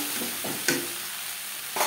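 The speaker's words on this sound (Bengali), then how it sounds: "সবজি বেশ ভালো করে ভাজা হয়ে গেছে।" Vegetables for a Bengali moong dal khichuri fry in a pan on a gas flame, a steady close sizzle broken by a few scraping stir strokes and one sharper clatter of the spatula.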